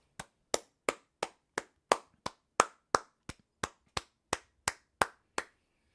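A single pair of hands claps about fifteen times in an even, steady rhythm, each clap crisp and separate against near silence.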